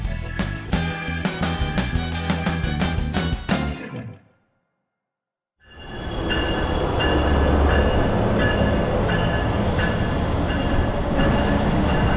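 A train rumbles and clatters loudly nearby, cuts to a brief silence, then returns with a steady roar of wheels on rails.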